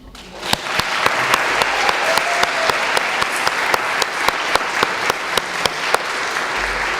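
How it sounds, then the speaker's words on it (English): Audience applause fills a milestone celebration hall, a dense, loud wash of many hands clapping that rises quickly and then holds steady throughout, with no voices over it. "please join me in giving this remarkable young man a large round of applause"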